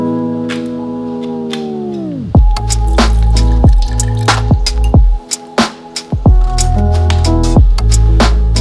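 A package of tofu is opened and drained, with a crinkle of packaging followed by repeated nearby drips, squishes and small clinks of liquid running off, close and fairly loud with no talking.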